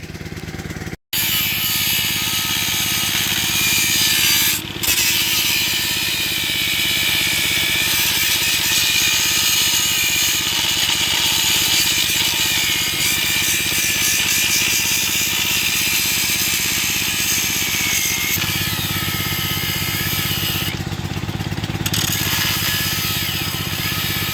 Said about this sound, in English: I'm going to put another cutting wheel on here, and I'm going to cut that spring